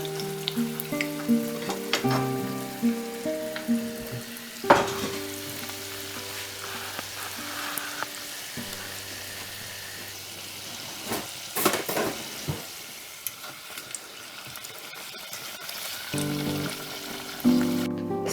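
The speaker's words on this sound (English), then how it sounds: "now we start to fry them in very hot sunflower oil" Pirozhki frying in very hot sunflower oil, a steady crackling sizzle running throughout with occasional louder pops and bursts, close by, and a low musical bed underneath.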